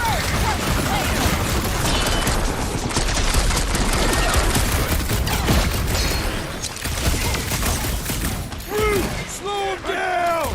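Gunfire in the Guardians of the Galaxy game, loud sustained bursts of rapid shots and impacts running nearly the whole time, with characters shouting over the fight.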